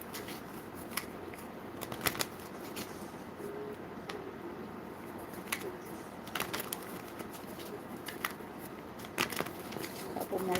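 Tarot cards are shuffled repeatedly with crisp riffling snaps and soft papery rustles, close by, over a faint background hum.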